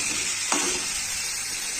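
A spice paste of ginger frying in oil in a pan while being stirred: a steady, dense sizzle with one brief scrape of the spatula partway through, close and continuous with no voices.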